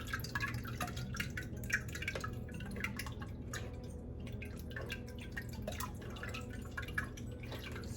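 Fresh juice dripping and trickling through a strainer, rapid irregular drips and small splashes close by, steady throughout with no talking.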